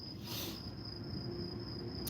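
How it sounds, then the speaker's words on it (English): Crickets chirp outdoors on a full-moon night in Jerusalem, a steady high trill that continues throughout, with a brief rustle near the start and no voices. "I love the sound of the crickets."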